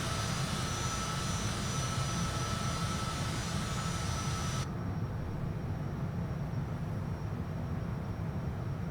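An airplane takes off in Microsoft Flight Simulator 2024 at Palmerola, Honduras, with steady, loud engine roar that continues for the whole stretch and has no voices over it.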